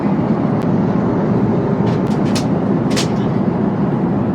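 Steady, loud airplane cabin roar during turbulence in flight, a dense continuous rumble with a few faint clicks and rattles and no clear talking.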